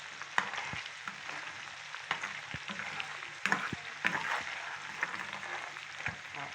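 Onion, pepper and crayfish sizzle in a pot for beans and yam porridge, a steady close frying hiss broken by occasional stirring clicks and scrapes.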